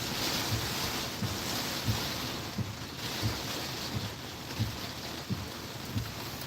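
Tropical Storm Ophelia's eye wall at Emerald Isle, North Carolina, with loud steady wind roaring and blasting over the microphone, mixed with a broad rushing wash of surf and rain and a faint rhythmic thudding beneath it all.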